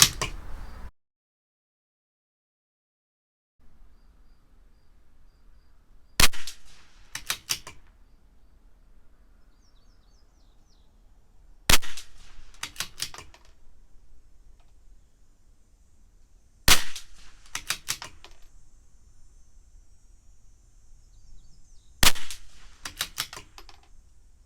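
A CZ 457 LRP rimfire rifle with an IBI barrel firing Eley Match ammo, four sharp cracks spaced about five seconds apart, each followed by quick mechanical clicks of the bolt cycling, near and loud over quiet outdoor background.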